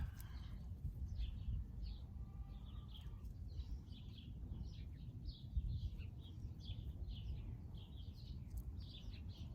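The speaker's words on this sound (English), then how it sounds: "the birds are singing" Birds singing in the distance, repeated short chirping phrases over a steady low outdoor rumble, fairly faint throughout.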